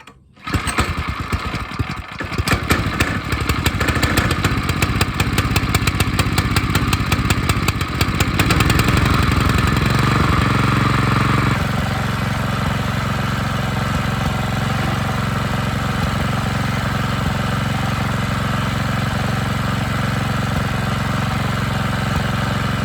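A cheap minibike's small single-cylinder engine runs steadily up close with no talk, revving hard and choppy in the first half before settling into a loud, even idle drone.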